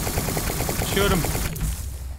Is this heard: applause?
no